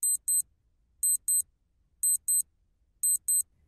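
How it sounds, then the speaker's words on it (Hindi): An alarm clock tucked inside a sleeping bag beeps in sharp, high double bursts, four pairs spaced about a second apart, with quiet rustling beneath. "स्लीपिंग बैग के नीचे एक अलार्म क्लॉक भी रखी हुई थी"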